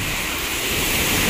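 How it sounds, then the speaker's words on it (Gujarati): Heavy rain and gusting wind during Cyclone Biparjoy form a dense, steady roar that builds slightly toward the end, close to the microphone, with no voices. "વરસાદ ચાલુ થઈ ગયો જોરદાર"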